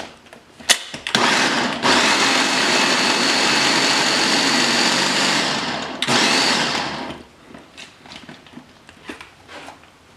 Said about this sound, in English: in 2 phases it works out to be just about perfect for this size of a Ninja blender